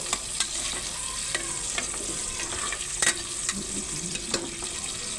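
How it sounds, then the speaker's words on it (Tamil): Onions sautéing in hot oil for a Bangalore-style biryani, a steady sizzle with occasional spoon stirring and scraping knocks in the pan. "நம்ம வெங்காயத்தை போட்டு நல்லா பொன்னிறமாக வதக்கிக்கலாம்"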